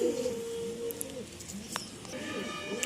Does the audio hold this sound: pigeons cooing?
yes